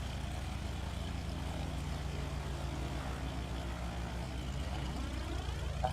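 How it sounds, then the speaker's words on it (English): Cessna propeller engine droning steadily at close range while taxiing back in a flight simulator game, a constant low hum with a faint rising whine near the end. "So we are pushing back."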